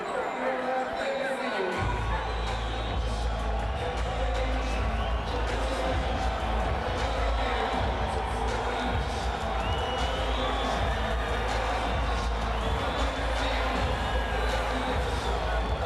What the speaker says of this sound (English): They don't know whether to cheer or boo, it seems.